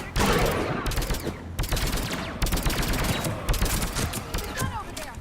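A mounted gun in the video game Mass Effect 3 fires in rapid, continuous bursts, loud and close, with the heavy gunfire running nonstop through a chaotic battle.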